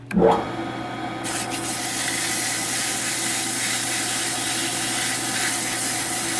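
A Model T transmission drum being polished while it spins on a lathe gives a steady abrasive rubbing hiss that starts with a brief louder contact and then holds at an even level throughout.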